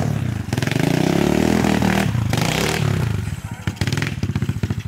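A motorcycle engine revs hard and close by, its loud, rapid pulsing rising and falling in bursts with a few clattering knocks.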